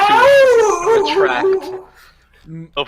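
A man imitates a wolf howl with a long, wavering, falling voiced call that trails off, followed by a short vocal sound, loud and close.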